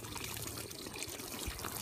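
Water splashes and pours at a sunny outdoor pool, a close, continuous trickling wash that stays even throughout, with no talk.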